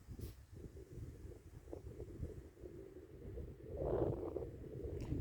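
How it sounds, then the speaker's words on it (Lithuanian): Wind buffets the microphone in an open roadside spot by a tree and ditches, low uneven rumbling gusts that swell near the end, fairly faint and without talk. "Ir aišku vėjas."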